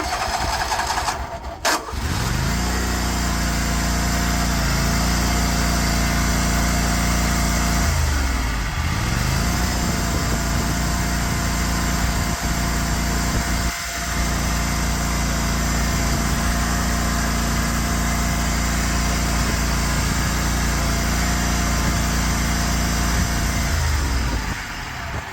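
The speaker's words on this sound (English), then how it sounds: "let's see if she starts back up after running her for a while. She doesn't like running. She's got old gas in her." Small gasoline engine on old fuel runs at a loud, steady high-pitched drone close by, with brief dips where it falters and stumbles off full throttle.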